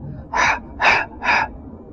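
A voice imitates panting for breath with three sharp, evenly spaced breathy exhalations, close and fairly loud with short silent gaps between.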